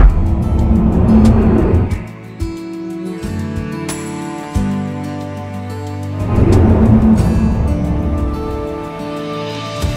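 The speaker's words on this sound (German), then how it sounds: "Ich fahre die Nordrampe vom Sellerjoch herunter, die wiederum flüssig in das Grödnerjoch übergeht." A motorcycle descends the winding north ramp of the Sella Pass in the Dolomites, its engine loud and close, rising and falling with gear shifts and throttle changes through the bends, with wind rush throughout and no talking.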